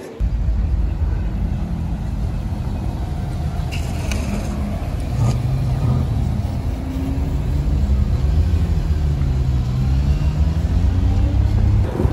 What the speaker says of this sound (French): Bon là on a une petite 599 GTB, très chouette voiture aussi.